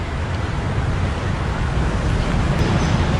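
Ocean waves surge and wash continuously beside a ship at sea, a loud, dense roar of water with no pauses and no voices.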